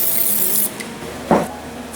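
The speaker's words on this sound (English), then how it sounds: "I'm going to spray a little bit of olive oil so that the wrap does not stick on it." A small kitchen spritzer gives a quick burst of olive oil spray, a short hissing puff heard alone, close by, while semolina sponge breads are being prepared.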